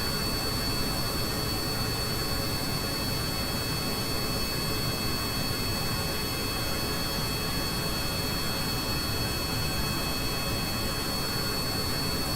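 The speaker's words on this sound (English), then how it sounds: "I've lowered the engine power a little bit." A rocket engine in Kerbal Space Program runs at reduced power with a steady, dense roar and a faint high whine on top, unbroken and loud throughout.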